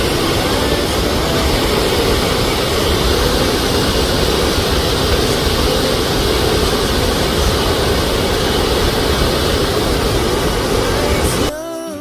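A loud, continuous roar of water pouring over Thiba Falls waterfall in Kirinyaga, heard up close and unchanging, cutting off abruptly at the very end.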